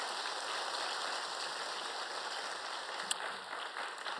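A congregation claps during a Saturday dawn prayer service at a church, a steady, fairly quiet spread of applause with no voices.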